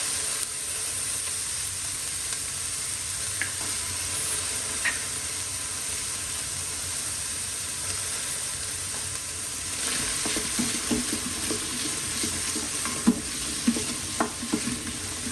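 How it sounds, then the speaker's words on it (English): Chopped onion and ginger sauté in an Instant Pot with a continuous soft sizzle and hiss, and a few scrapes of stirring come in during the last seconds. "I'm going to saute it and the ginger a little bit just to get it"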